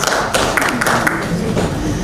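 An audience at a tech event claps together in a sustained round of applause, dense and steady throughout, fairly loud and close, with no talking over it.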